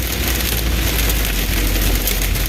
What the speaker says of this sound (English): that loud noise you're hearing is hail.